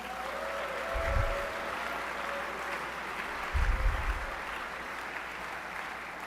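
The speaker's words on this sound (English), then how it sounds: "Let's do a round of applause for the American Legion." Sustained applause from a large assembly crowd fills a big hall at a state youth government general assembly, steady clapping throughout with a couple of low thumps, no speech over it.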